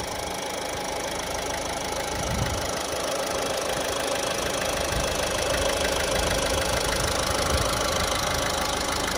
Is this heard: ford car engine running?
yes